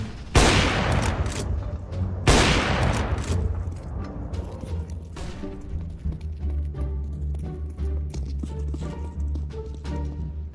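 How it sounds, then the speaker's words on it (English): Smoke grenade and flashbang thrown in the video game CS:GO, with two sharp loud bursts followed by a continuous hiss and rattling game effects, close and dense. "Throwing smoke. Throwing flashbang."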